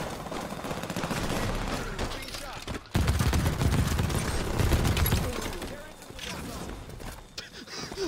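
A chain gun fires in Halo 5 Warzone Turbo, a dense rapid burst of shots that runs almost unbroken with a brief gap, mixed with mechanical clanks and a voice talking over it.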